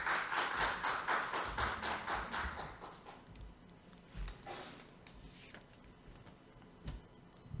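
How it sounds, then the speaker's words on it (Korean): Brief applause from the audience at a Korean humanities forum on water, welcoming a speaker. The clapping falls into a loose, quick rhythm for about three seconds, then fades into a few scattered taps and thuds in a quiet room. "여러분 큰 박수로 맞이해 주시기 바랍니다"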